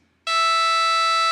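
A Reason software womp synth patch with motion turned fully down on index 43 gives a loud, steady, buzzy tone that starts abruptly and holds unchanged, rich in harmonics, alone with no talk.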